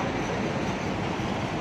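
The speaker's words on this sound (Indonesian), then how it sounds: "kereta api ya." A steady rumbling train noise at Parigi station, broad and continuous, with rolling wheel clatter close by.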